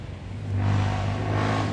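A truck passes by on a road, its engine swelling from a low rumble to a loud, close drone and then easing slightly as it goes by.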